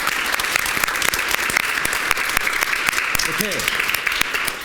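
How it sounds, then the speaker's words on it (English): A live audience claps steadily, a brisk, even patter of many hands heard up close, while a voice briefly speaks over it partway through. "Let's give Jackson a big round of applause."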